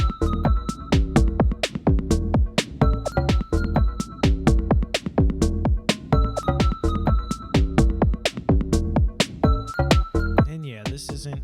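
Electronic dance track with a punchy, driving main riff in 7/8 instead of four-on-the-floor, dense repeated synth and drum hits filling the mix steadily before a brief glitchy sweep at the end.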